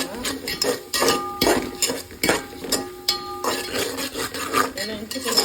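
Onions being sautéed with masala in a pan over a medium flame, with repeated scraping and stirring clinks of a utensil against the pan in an uneven rhythm, close and moderately loud.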